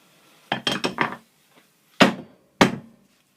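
A handmade wooden mallet strikes a wooden chisel, wood on wood: a quick cluster of four knocks, then two single blows after pauses, sharp and close in a quiet workshop.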